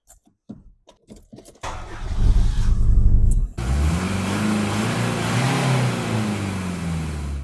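A Mercedes 190D diesel car engine starts with a brief crank, then settles into a steady, low rumbling idle that runs continuously up close.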